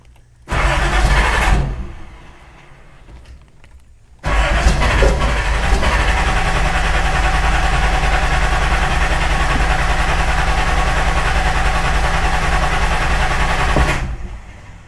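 Turbocharged Datsun 240Z engine on Megasquirt fuel injection during a start attempt. A short burst of cranking is followed by the engine catching and running at a steady, loud idle for about ten seconds before it cuts off.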